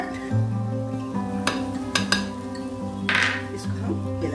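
Stirring milk powder into sweet rice zarda in a pot: a few sharp clinks of a spoon against the metal pot, with soft scraping between them, close and clear over a low steady hum.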